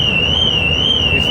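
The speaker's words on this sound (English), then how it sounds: "Car alarm's going already." A car alarm wails with a loud, steady, slowly wavering electronic tone, heard outdoors near the Mallaig ferry crossing in Scotland, with no voices over it.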